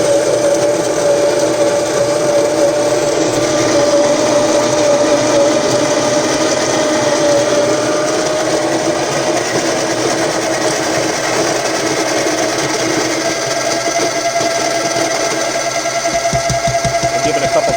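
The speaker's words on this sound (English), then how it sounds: "So start the grinder." A coffee grinder runs steadily on beans for a V60 pour-over, ground slightly finer than for a French press, giving a loud, continuous whirring drone that holds through nearly the whole stretch before a brief rattle near the end.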